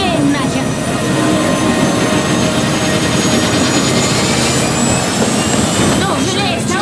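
A helicopter in Far Cry 5, heard as a loud, constant roar of engine and rotor noise with a rapid chopping pulse, with shouting voices mixed in.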